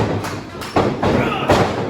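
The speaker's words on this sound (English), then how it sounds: "And Ryzer knocked down" A pro wrestler is knocked down onto the ring mat, giving heavy thuds and impacts on the canvas, several close, loud bumps spaced about half a second apart.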